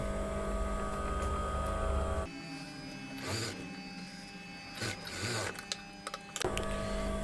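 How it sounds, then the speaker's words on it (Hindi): Sewing machine running along the shoulder seam of a top, a continuous close mechanical whir that shifts in tone partway, with intermittent rustling bursts. "इसके भी शोल्डर की सिलाई लगा लेते हैं"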